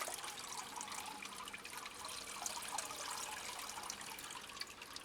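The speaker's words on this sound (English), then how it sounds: "water it all the way around" Potted Paphiopedilum and Phragmipedium orchids being watered all the way around, a steady close splashing and trickling of water that runs continuously with no talking.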